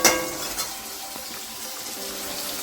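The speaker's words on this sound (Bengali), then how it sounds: "লম্বা লম্বা করে কেটে রাখা আলুগুলো দিয়ে দেওয়া হচ্ছে ভাজার জন্য।" Long-cut potato slices go into hot mustard oil with whole cumin. A brief splash at the start settles into a faint, steady frying hiss, and no one speaks.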